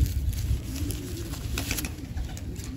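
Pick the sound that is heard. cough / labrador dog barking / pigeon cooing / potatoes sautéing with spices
pigeon cooing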